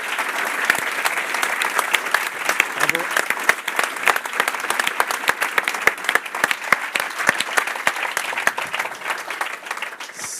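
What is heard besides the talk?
audience applauding the two lecturers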